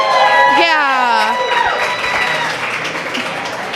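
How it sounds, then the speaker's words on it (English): Studio audience applauding and cheering for guest King Joey on a talk show set, a dense wash of clapping with voices shouting over it, fading slightly toward the end. "Round of applause for King Joey."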